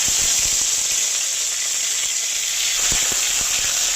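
Ginger and green chili paste hits hot oil with whole cumin, giving a loud, continuous sizzle and hiss close by, with small crackling pops scattered through.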